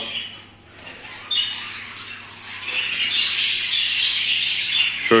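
A bird gives harsh, scratchy squawking calls close by, growing louder and more continuous toward the end over a quiet background hum.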